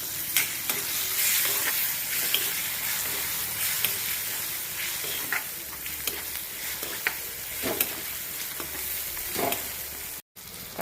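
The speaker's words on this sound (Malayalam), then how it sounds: "തക്കാളി നന്നായിട്ട് വഴന്ന് കിട്ടിയിട്ടുണ്ട്" Tomato being sautéed in a pan for potato capsicum masala, a continuous close sizzle broken by repeated spatula stirs and scrapes, with a brief dropout near the end and no speech.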